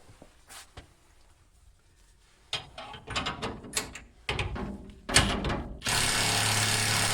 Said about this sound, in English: We're just tightening down the bolts now.